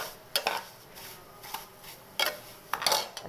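Vermicelli roasting in a pan for sheer khurma, with a few sharp scraping and clinking strokes of a spoon against the pan, spaced apart and fairly quiet, with faint frying beneath.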